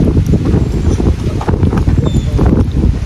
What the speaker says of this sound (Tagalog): Sarap dito yung hangin. Mahangin mga babe